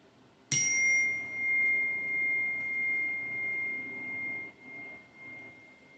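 A single bright chime struck to open a spoken prosperity mantra, ringing out in one clean stroke with a long sustained tone that fades slowly over several seconds, heard alone.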